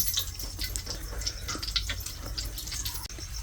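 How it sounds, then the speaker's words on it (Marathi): Close, continuous watery patter with small drip-like ticks throughout, fairly quiet, and one sharp knock near the end; no voices. "पाणी पडतंय वरून"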